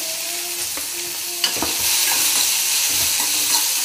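Onion, curry leaves, green chilli, cumin and asafoetida are sautéed in oil for Chettinad paniyaram, with a steady close sizzle and a few sharp scrapes and taps of a spoon stirring in the pan.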